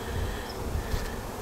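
Honey bees hum steadily on a hive frame, including a large drone. The buzzing is a dense, continuous drone with no voices over it.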